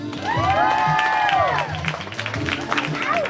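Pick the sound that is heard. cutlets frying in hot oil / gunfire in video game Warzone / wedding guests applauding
wedding guests applauding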